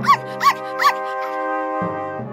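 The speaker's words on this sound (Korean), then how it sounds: "저 너머에 강아지 한 마리가 보였어요." A cartoon puppy in an animated Alice fairy tale gives three short, bright yips in quick succession, followed by a sustained musical tone and a low rumble.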